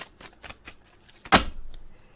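A deck of tarot cards is shuffled by hand, with a quick series of soft riffling flicks followed by one sharper, louder riffle and a brief trailing rustle, close and fairly quiet, no talking.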